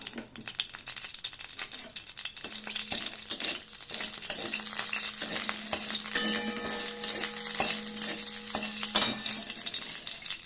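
A green chili and spices sizzle in hot oil for a fish curry tempering, a crackling fry with occasional utensil clinks and stirring, growing steadier, no voices.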